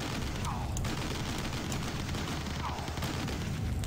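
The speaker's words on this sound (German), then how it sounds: "die müssen sich einen Weg durch den Bunker schießen" Dense gunfire from the video game Battle Islands as troops shoot their way through a bunker: a continuous, fairly quiet rattle of shots with muffled booms underneath and no pauses.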